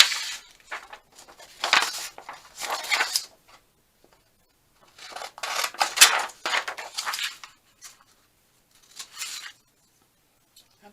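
Scissors snip through paper while faux stamps are cut out, in short bursts of crisp rustling cuts separated by quiet pauses, close and fairly clear.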